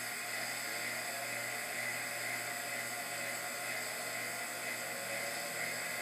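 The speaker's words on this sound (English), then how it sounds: "Initiating rotor spin now." A Halbach array magnet rotor spins up on a magnetohydrodynamic test rig, giving a steady, even high-pitched whir with faint low hum underneath that holds constant throughout, with no talking.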